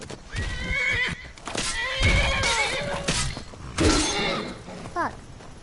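A horse neighs loudly several times, drawn-out whinnies with hooves clopping and a crash of breaking, mixed with game sound effects.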